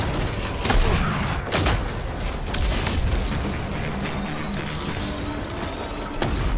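Heavy gunfire from powerful weapons in an id-style shooter game trailer, a continuous loud barrage of booming shots and blasts layered over a dense roar throughout.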